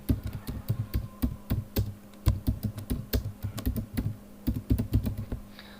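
Close computer keyboard typing, with bursts of quick, irregular key clicks and brief pauses between groups and no voices.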